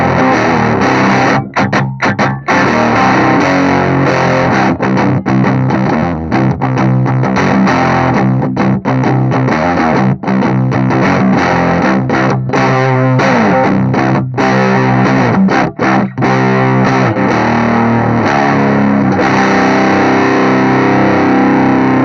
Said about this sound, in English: Now let's stick it through the Orange Rocker 15 with a bit more drive to see if it dooms in any way.